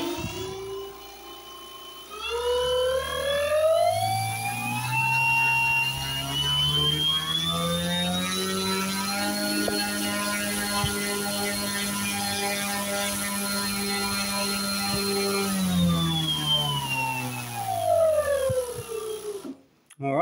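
Electric motor and propeller of a Pichler Sinbad RC glider running up to full power on the bench, a buzzing whine rising steadily in pitch, holding loud for a long stretch, then winding back down and cutting off.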